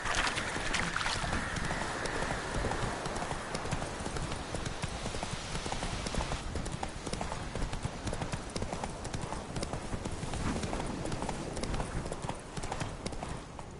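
The horse Roach gallops, its hooves pounding out a rapid, continuous clip-clop that stays close and loud the whole time.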